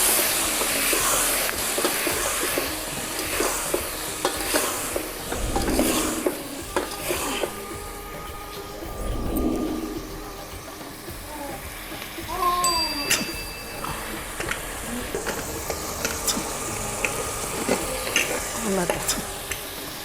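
Tomatoes fry for sambar in a pan, a steady close sizzle with repeated stirring scrapes and clinks of a spoon against the metal throughout.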